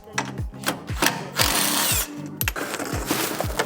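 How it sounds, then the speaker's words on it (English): Rear skid plate coming off a Polaris RZR Trail S 1000 with a power tool, heard as short repeated whirring bursts. Harsh scraping and clattering of the plastic panel fall between them, close and loud. "the first thing we're gonna do is pull the rear section of the skid plate off"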